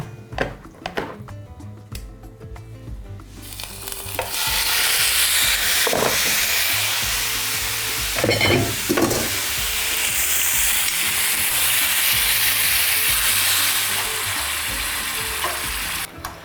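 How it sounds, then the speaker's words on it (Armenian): A few kitchen clatters, then meat for tacos hits a hot pan and a loud, steady sizzle fills the rest, with brief stirring scrapes. "Լցնում ենք միսը տապակվելու։"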